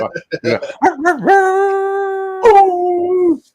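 People mimic wolves with voiced howls, starting with short yips and rising into a long sustained howl, then a second drawn-out howl, loud and close.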